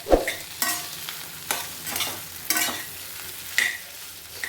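Sliced potatoes fry in a pan for a quick potato stir-fry with salt and green chillies, with a spatula scraping through them in about five regular strokes over a soft, steady sizzle. No one speaks.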